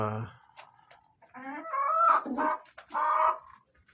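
Chickens clucking nearby inside a winter coop in a few bursts, with short pauses between calls and a faint voice underneath.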